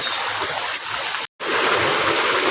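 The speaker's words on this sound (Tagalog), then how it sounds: "Ayun yung falls, oh. Malit lang siya, pero malinaw ang tubig." Clear water rushes over a small waterfall at Mahugany Falls in Trece Martires, Cavite, a steady broadband splashing roar close by, briefly cut out once, with no talking.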